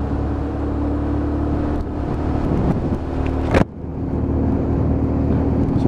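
A UM Commando 125cc motorcycle with a deep grumbling engine note runs steadily during a ride, a continuous low drone with a brief dip, a sharp burst near the middle, then the engine carrying on.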